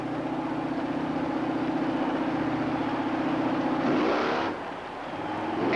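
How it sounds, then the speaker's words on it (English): Monster truck engine at a 1991 USHRA race in Roanoke droning steadily off the starting line, then bogging with a falling, faltering pitch near the end before picking back up, moderately loud and somewhat distant. "Richmond's truck bogs right off the starting line"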